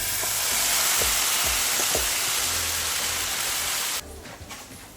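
Beef returned to a pan of browned onions sizzles with a loud, steady hiss. A few soft thuds sound early on, and the sizzle drops away sharply near the end.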